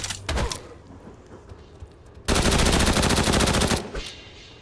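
Shooter video game gunfire: a short early burst, then a loud, sustained rapid automatic volley lasting over a second, close and dominant, trailing into fainter shots.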